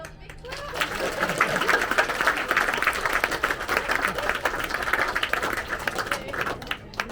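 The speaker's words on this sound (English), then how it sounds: "Give yourselves a big clap" An audience at a group exercise session claps together, a dense, steady patter of many hands lasting several seconds with no pauses.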